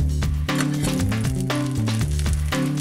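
A cheese sandwich sizzles steadily on a grill pan, with a loud, continuous frying crackle and a faint tonal hum running through it.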